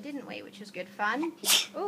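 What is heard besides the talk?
sneeze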